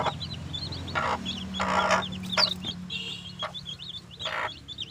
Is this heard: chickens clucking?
yes